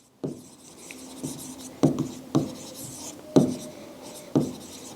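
Marker or chalk strokes on a classroom board, a series of short scratchy writing bursts spaced about half a second to a second apart, close and clear with no voice over them.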